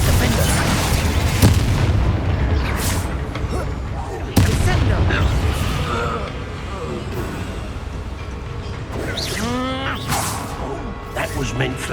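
Confringo fire spell blasts in Hogwarts Legacy combat, loud booms and whooshing bursts that strike repeatedly over busy battle noise, with a voice speaking between them.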